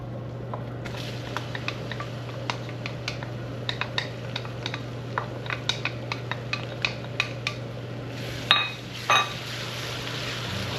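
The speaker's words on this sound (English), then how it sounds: "I'm going to drop my onions." Onions drop onto a hot grill and a bright hiss rises at once, with sharp clicks and scrapes of a metal utensil tapping through the sizzle and a louder clatter near the end.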